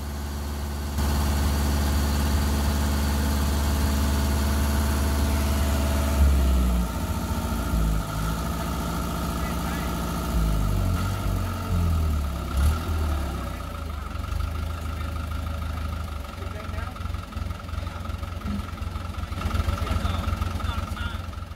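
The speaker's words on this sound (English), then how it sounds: "I raise and lower the RV with the front end of this tractor" A tractor engine runs steadily at close range as its front loader raises and lowers an RV, a low, continuous rumble with slight shifts in load and a few knocks.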